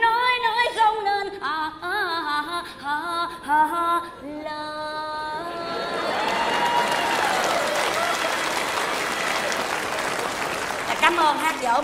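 Audience at a live Vietnamese comedy stage show breaks into sustained applause that swells and holds for several seconds, following a stretch of voices speaking and laughing over the crowd.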